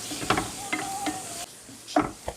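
A spatula scrapes a few times through onions browning in a pan for a jackfruit dish, with a faint sizzle underneath; the scrapes are quiet and sparse.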